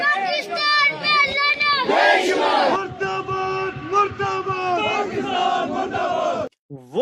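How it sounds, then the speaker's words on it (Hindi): A large crowd chants Pakistan Murdabad slogans in Kashmir, loud and rhythmic, with many voices shouting in unison close by, the chant repeating steadily before cutting off briefly near the end. "कश्मीर में शायद पहली बार इतनी जोर से पाकिस्तान मुर्दाबाद के नारे लग रहे हैं।"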